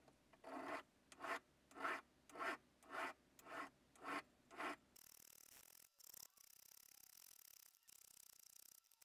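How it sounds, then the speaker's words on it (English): Hand file rasping across a 999 fine silver ring made from a coin, shaping the joint between signet table and band: about ten rhythmic strokes, close and clear, followed by a softer steady scraping. "I'm gonna file down the table where it meets the band until it's basically one continuum"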